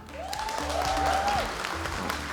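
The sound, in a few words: audience applause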